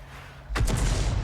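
A single loud artillery shell explosion in World of Tanks, fired from a 105 leFH18B2 self-propelled gun, bursts suddenly with a heavy low boom and a brief crackling tail after a quiet lead-in.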